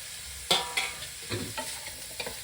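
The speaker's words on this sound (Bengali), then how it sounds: "এরপরে দিয়ে দেব লঙ্কা কুচি গাজর কুচি সমস্ত ক্যাপসিকামগুলো দিয়ে দেব দিয়ে ভালো করে নেড়ে নেব" Chopped chili, carrot and capsicum are stirred in a pan, giving a few quick scraping strokes over a soft, steady sizzle.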